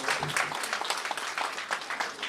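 An audience at a cultural program breaks into loud, sustained applause to welcome a speaker, dense clapping that stays steady for a couple of seconds.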